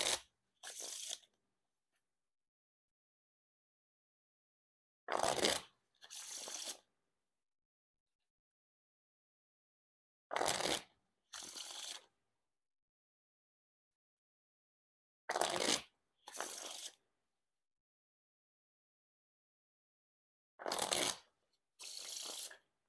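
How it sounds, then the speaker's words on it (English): Bicycle playing cards riffle-shuffled up close, five rounds of a quick ripping flutter each followed by a softer bridge cascade, with silent gaps between. "Now time for the riffle shuffle or bridge shuffle."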